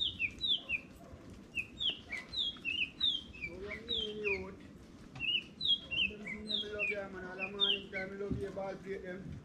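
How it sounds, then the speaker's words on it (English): A bird outdoors near a driveway sings in quick bright chirping phrases, repeated every second or so. Faint lower voices murmur underneath in the second half. "Bird singing sweet song."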